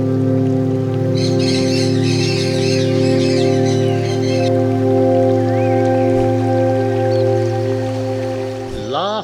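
Macaws and parrots call in the Peruvian Amazon rainforest at dawn, a dense burst of harsh squawks in the middle over a steady, loud bed of insect drone and jungle ambience.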